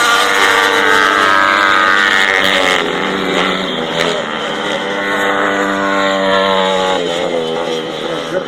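Grasstrack racing motorcycles at the 2018 British Youth Grasstrack Championships roar loudly and continuously around the track, engine notes rising and overlapping as several bikes pass, with a commentator talking over them.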